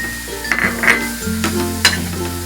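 Modak filling of dry fruits and cardamom powder being stirred in a pan over low heat, with a close, steady scraping and faint sizzling punctuated by a few louder strokes.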